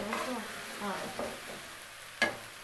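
Ginger and garlic sizzle in a frying pan as they are stirred, a close hiss with scraping strokes and a sharp clack near the end, with a voice briefly in the background.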